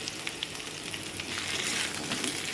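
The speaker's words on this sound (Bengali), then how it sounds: "এবার আমরা সব ভেজিটেবলগুলো দিয়ে দিচ্ছি।" Vegetables for Bengali shukto hit hot oil in a pan, and a dense crackling sizzle swells louder partway through, close and continuous, with no talking.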